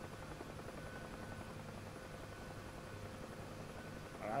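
Steady, unbroken helicopter rotor drone from a simulated aircraft in the combat flight game DCS World, played in Oculus VR, holding at an even moderate level with a slight swell at the very end.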